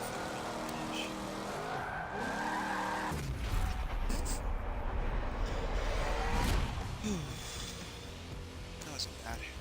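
A car brakes hard on a track in a racing game, with the engine cutting and tires screeching and skidding for several seconds, loud and close.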